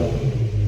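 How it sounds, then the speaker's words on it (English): BMW E60 M5 engine fitted with a lightweight flywheel, a brief loud low rumble as it revs, heard close and alone. "let's see how fast it revs."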